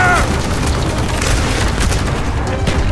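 Machine gun fire in the Black Ops video game during a village assault, a dense, loud clatter of rapid shots mixed with booms, continuous throughout.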